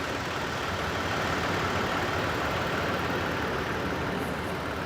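A 2019 Toyota Tacoma TRD Pro 4x4 pickup idles, its engine giving a steady, dense rumble heard up close without interruption and with no one speaking.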